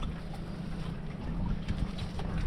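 Strong wind buffeting a small boat at sea near an island, a steady low rumbling roar with gusty surges and water noise, continuous and fairly loud throughout.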